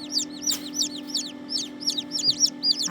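Tiny serama chicks, the world's smallest chicken breed hatched at home, peep in rapid, repeated high chirps, close and clear, over a steady low hum.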